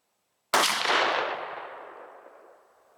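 A Mossberg 500 12-gauge pump shotgun with an old Select choke fires a Kent Fasteel 2.0 2-3/4" 1-1/16 oz steel BB shell: one loud, sharp blast that rings out and decays over a couple of seconds outdoors.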